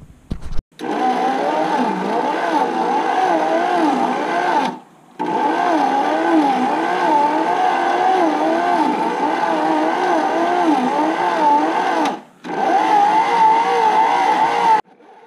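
Electric mixer churning Halifax donair meat, a loud steady motor whine with wavering pitch that runs continuously, stopping briefly twice before resuming.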